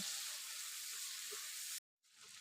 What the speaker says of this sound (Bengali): এবার মশলাটা ভালোভাবে কষিয়ে নেব।